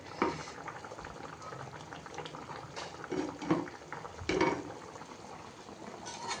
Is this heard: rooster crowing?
no